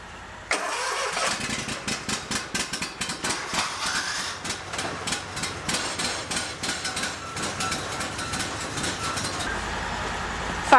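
A Chevy Express van engine cranks and fires after months of sitting, with rhythmic starter churning and clanking for several seconds before catching into a steady idle, close and fairly loud.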